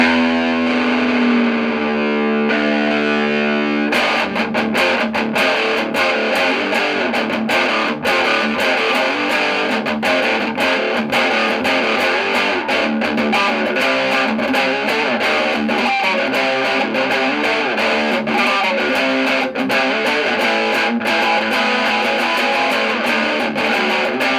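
A single clean guitar chord rings briefly, then heavily distorted electric guitar through an amp chugs loudly and continuously with rapid palm-muted rhythm in drop E tuning.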